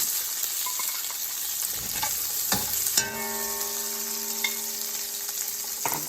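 Chopped onion drops into a hot pan and sizzles steadily up close, with a few stirring scrapes and a clinking utensil ringing out partway through, no voices.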